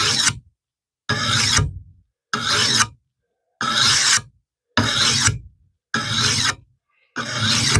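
A hand file rasping along a hedge trimmer blade, seven evenly spaced strokes with short silent gaps between them, each a close, gritty scrape.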